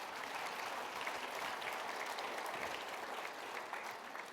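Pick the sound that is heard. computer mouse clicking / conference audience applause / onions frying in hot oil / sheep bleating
conference audience applause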